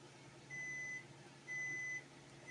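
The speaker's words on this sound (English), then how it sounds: "There goes the timer." A kitchen timer sounds two evenly spaced electronic beeps, each about half a second long, fairly faint over a quiet room hum, while a cake is being made.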